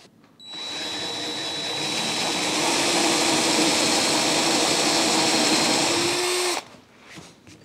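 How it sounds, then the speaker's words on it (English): A power drill boring through thick material with a Forstner bit, a loud steady whining grind starting abruptly, holding for about six seconds, then cutting off sharply, with no talking. "the trick to this Forstner bit, especially drilling through such thick material, is frequent cleaning"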